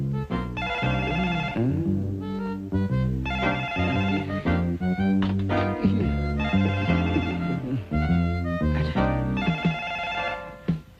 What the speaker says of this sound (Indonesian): Siapa sih telepon masih malam begini?